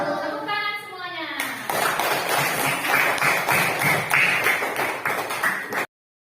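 A classroom of children applauding, with a rapid, dense patter of many clapping hands sustained for several seconds after a brief voice, then cutting off abruptly.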